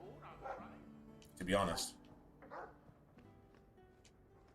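A dog in the fantasy role-playing game Dragon Age II gives a few short barks and yips, one louder bark standing out, mixed in with someone talking.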